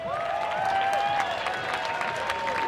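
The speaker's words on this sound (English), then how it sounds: "Round of applause, guys." Spectators at a Mile Zero Fights bout in Key West applaud after a fight result, steady clapping with some cheering and a high whistle carrying over it.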